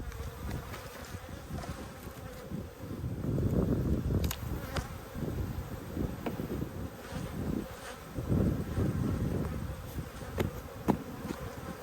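Cranky honeybees swarming around an opened hive on a cold winter day, a dense close buzzing that swells and fades in waves, with sharp passes of individual bees flying near.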